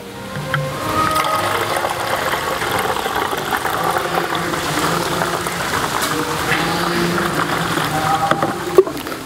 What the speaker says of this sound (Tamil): ஒரு லிட்டர் தண்ணி எப்படி சேர்க்கணும்